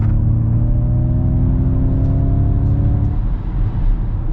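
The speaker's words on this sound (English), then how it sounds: "Okay, so we're gonna do one acceleration here to see how it goes." A 2023 Ford Mustang Mach-E GT electric car accelerates hard, its steady rising motor whine loud and close for about three seconds before easing into rougher road and tire noise, with no talking.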